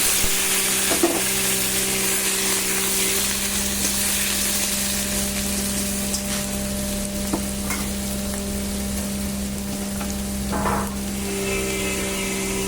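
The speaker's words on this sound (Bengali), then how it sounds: "চিংড়ি মাছটা ভালো করে ভেজে নেবো" Prawns fry in a pan with garlic, salt and turmeric, giving a steady, close, continuous sizzle with faint stirring scrapes throughout and no talking.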